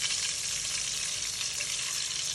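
Carrots, onions and celery frying in melted fat in a pan for a spaghetti ragù, giving a steady, close, dense sizzle that holds even throughout with no talking.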